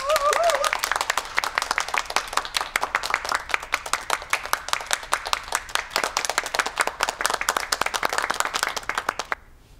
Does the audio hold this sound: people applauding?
yes